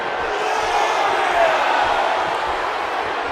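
Wrestling arena crowd in the WWE 2K18 video game, a steady loud roar of cheering spectators holding constant throughout, broad and dense with no clear individual voices.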